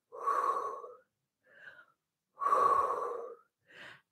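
Heavy breathing during a Pilates mat core exercise, two long loud breaths each followed by a shorter softer one, close and alone.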